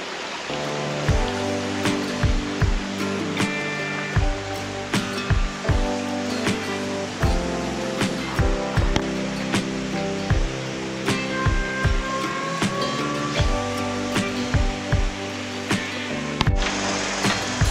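Water runs steadily in a canal beside a creekside restaurant in Chiang Mai, a continuous rushing wash with scattered sharp clicks and knocks over it throughout, fairly close and moderately loud, with no voices.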